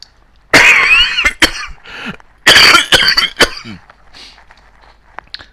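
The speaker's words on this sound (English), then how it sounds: "Sorry about the coughing." A man at his computer coughs hard in two loud, close bursts, each a few raspy hacks, followed by a softer throat-clearing and faint background clicks.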